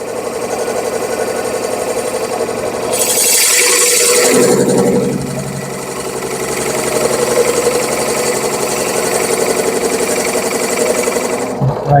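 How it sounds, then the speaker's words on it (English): Drill fitted with a Forstner bit boring halfway into a piece of wood, letting the bit cut without pushing, a steady whining grind that holds loud and even throughout, rising briefly in a rougher burst near the start. "I'm not pushing it, I'm just letting the bit drill."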